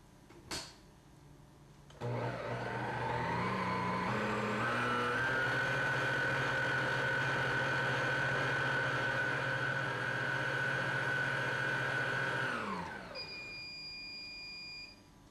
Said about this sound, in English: we're going to use our chef's whisk attachment. We're going to put this on speed 6 for about 3 minutes.